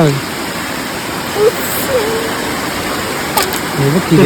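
Continuous soft rush of flowing water from a small stream, even and close, with a few brief faint sounds rising over it.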